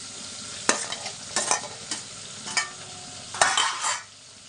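Tomatoes fry in a pan for sambar and are stirred, giving several sharp scraping strokes with sizzling bursts between them, fairly close and loud, then a short quiet tail with no talking.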